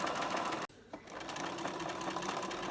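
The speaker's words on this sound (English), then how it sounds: "So starting with a back stitch and then stitching all the way to the end of the dart." Sewing machine stitching a dart in fabric for a raglan dress, a close steady whirring hum that stops briefly once and then resumes.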